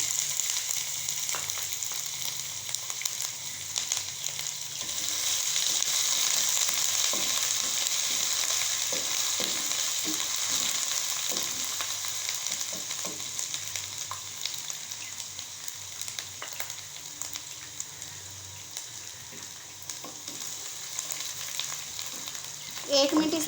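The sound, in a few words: browning onions frying with chopped ginger and garlic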